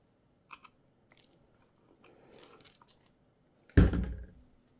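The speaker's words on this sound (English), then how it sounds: "I'm just going to go ahead and poke a hole for my eyelet in between there." Hole being poked for an eyelet in a handmade key keeper: a few faint ticks and soft scraping lead up to one sharp, close punch-like crunch near the end, in a quiet room.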